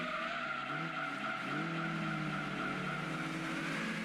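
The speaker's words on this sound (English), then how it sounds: "have you ever seen a 206 drifting?" In Gran Turismo 2, a Peugeot 206 drifts with a sustained, loud squeal of sliding tyres over a steady engine drone. The pitch bends upward partway through, and no one speaks.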